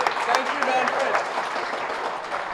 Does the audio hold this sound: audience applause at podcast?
yes